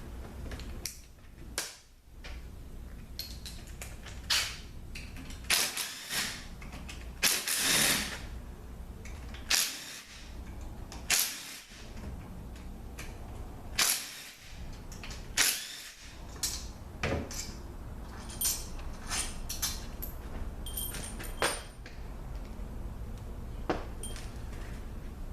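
Hand tools work the bolts on a Mercedes 722.9 4Matic automatic transmission during teardown, with scattered close clicks, ratcheting snaps and metallic clatter spread irregularly over a quiet workshop background.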